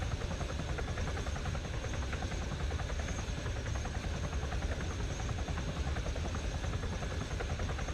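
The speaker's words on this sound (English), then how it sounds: "this is a big helicopter, so it likes to do a lot of swaying" Helicopter in the video game Arma 3, a big craft hovering on auto hover, gives a steady, loud, continuous rotor drone and engine whine throughout with no talk.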